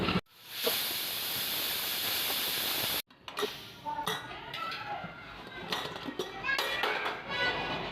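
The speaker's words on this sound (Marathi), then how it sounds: "आता आपण कुकर लावून घेऊ आणि चांगल्या पाच सहा शिट्ट्या होऊ देऊ" A pressure cooker cooking dal hisses steadily for the first few seconds. It cuts out abruptly, and scattered clinks of pots and utensils follow at close range.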